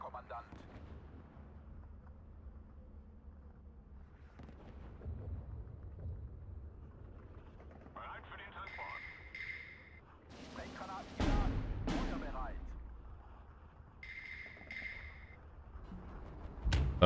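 Big artillery guns firing in the strategy game Steel Division 2, a couple of heavy booming blasts with rumbling tails amid battlefield noise, with a voice talking over parts of it.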